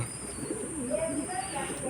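Pigeons coo softly while feeding, the low repeated calls running under a talking voice.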